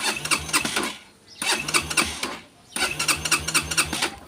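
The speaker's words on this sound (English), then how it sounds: "Let's start the bike with the choke on." Yamaha XTZ 125 motorcycle cranked over three times with the choke on, each burst of rapid mechanical starter clatter lasting about a second, separated by short pauses, close by with no talking.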